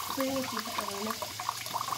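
A household tap runs with strong water pressure, giving a steady rushing splash close by. A voice talks over the water.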